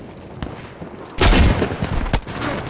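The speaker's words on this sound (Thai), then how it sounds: "ทิ้งระเบิดไปก่อนลูกหนึ่ง" A dropped bomb in the World War II shooter Battlefield V bursts with a sudden loud, deep explosion, its rumble rolling on after faint gunshots, followed by scattered sharp gunfire cracks.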